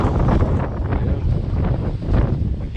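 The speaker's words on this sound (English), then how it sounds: "We apologize for the wind." Strong wind buffeting the microphone, a loud, gusting rumble that rises and falls without pause.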